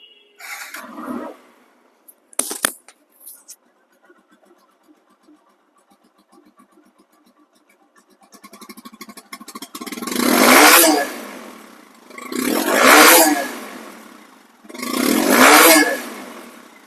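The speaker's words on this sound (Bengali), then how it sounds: "শোরুমের সাউন্ডের সাথে এই বাইকটি সাউন্ড মিলাই মিলাই নেবেন" A second-hand TVS Apache RTR 160 2V motorcycle with ABS, its engine running near and loud: a few knocks and a low idle, then three strong throttle revs that each swell and die away.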